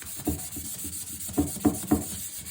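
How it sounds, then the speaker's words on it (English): A Victorian walnut table is being sanded by hand with 240-grit sandpaper along the grain. Close, rhythmic rubbing strokes repeat at a steady pace over a faint background hiss. "You always sand with grain, unless you're using a very fine sandpaper. I think this sandpaper is 240."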